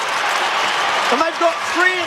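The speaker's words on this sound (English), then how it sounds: "The crowd's pumped." Australian football crowd at a Carlton versus Port Adelaide match roaring and cheering loudly after a goal, a dense continuous roar with a commentator's voice rising over it.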